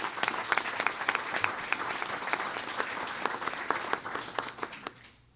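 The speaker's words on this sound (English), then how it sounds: "So please give them a big round of applause as well." An audience at a Baton Rouge political announcement bursts into steady, dense applause. It is loud and full throughout, then tapers off at the end.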